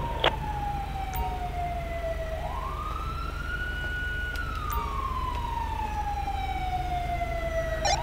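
Ambulance siren in the GTA V video game, a loud wailing tone sliding slowly up and down over a low engine rumble, with a few sharp clicks now and then.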